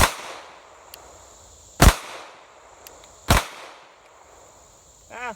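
Two loud, sharp pistol shots from a Beretta 90-Two fired double action at a range, spaced well apart, each with a quick ringing decay.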